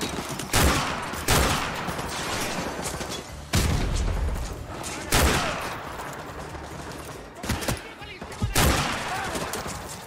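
Heavy gunfire in Call of Duty: Modern Warfare 2 Remastered: repeated loud bursts of fusillade and automatic fire in dense clusters, with booming impacts and sharp breaks between volleys, no voices.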